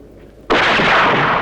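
A large demolition blast at an old research center erupts suddenly and loudly after a quiet moment, then rolls on as a sustained, roaring rumble.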